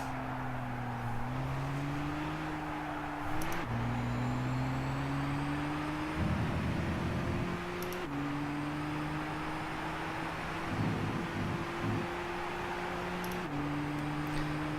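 A racing car engine on a hard lap in Gran Turismo 6 holds a steady, droning tone. Its pitch climbs gradually, with brief gear-change dips and a few rough bursts, and no voices are heard.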